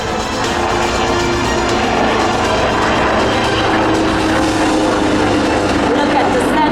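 An Italian Air Force Agusta HH-139B helicopter flying at an air show, its engine and rotor making a loud, steady roar that fills the whole stretch without pause.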